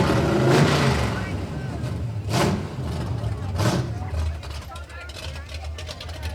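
Modified 1968 red Camaro rolling past in a Fourth of July frontier days parade, a loud low engine rumble with surges, heard amid crowd noise and a voice speaking over it.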